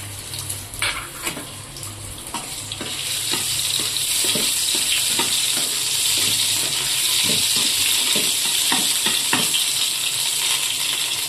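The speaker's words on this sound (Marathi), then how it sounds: "आता अद्रक आणि लसूण हे फ्राय करूया तेलामध्ये।" Ginger and garlic fry in hot oil in a pan for pasta, a loud continuous sizzle that swells after a few seconds, with occasional stirring clicks and no talking.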